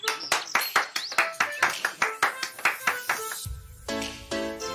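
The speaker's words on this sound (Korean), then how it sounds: "자, 박수, 박수!" A rapid series of sharp hand claps at a student party, about a dozen in quick rhythm, loud and close, ending with a brief burst of cheering.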